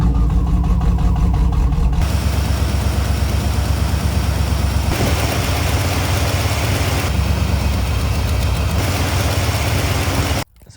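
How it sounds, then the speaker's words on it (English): A small block Chevy car engine, with the brown EST cable disconnected, starts up after about two seconds and settles into a loud, steady, rumbling idle that holds close and even before cutting off abruptly near the end. "and then start the car."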